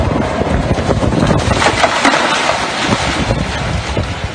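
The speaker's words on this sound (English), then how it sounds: "80-mile-an-hour winds toppled trees in upstate New York." Strong storm winds of around 80 miles an hour in upstate New York roar and buffet loudly and continuously, with gusty rumbling and rattling noise close to the microphone.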